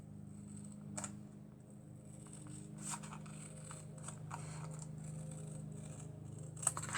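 Scissors snip a paper album flap, with a few quick, crisp cuts and faint paper rustling over a low steady hum, close but quiet.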